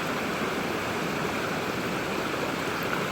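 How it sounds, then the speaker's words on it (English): Steady, even rush of freezing water from a waterfall pouring into a stream, a constant broadband roar that holds at the same level throughout with no voices. "she's going to go and have a shower under the waterfall"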